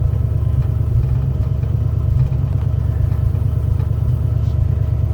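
Engine of a 1982 Ford F150 running steadily at idle, a loud, close, continuous low rumble with a faint mechanical clatter, no one talking.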